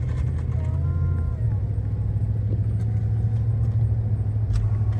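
Steady low engine rumble and road noise from a car cruising along a road in Missouri, a continuous interior drone with faint voices underneath.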